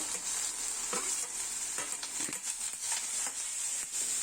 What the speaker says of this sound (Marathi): लाल भोपळ्याचा किस परतून घेऊ थोडा थोडासा लालसर होईपर्यंत परतायचा आहे